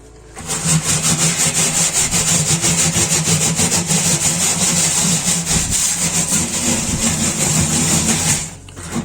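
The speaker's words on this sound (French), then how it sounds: "Avec ça, vous pouvez gratter facilement ce qui est accroché là." Scraper working baked-on grime off the inside of a dirty oven, a loud continuous rapid rasping scrape in quick back-and-forth strokes, close up, stopping abruptly near the end.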